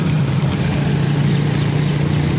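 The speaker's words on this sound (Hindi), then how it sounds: "एक हाथ में बाइक चला रहा हूँ।" A motorbike rides along a wet, rain-soaked street in Sukkur, Sindh, with a steady low engine rumble under a loud, continuous wash of tyre and wind noise.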